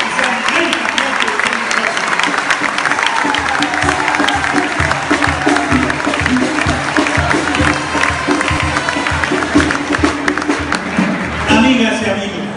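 A rally crowd in Guasave applauds a candidate with dense, sustained clapping that runs loud and steady for about twelve seconds, with cheering and voices mixed into the noise.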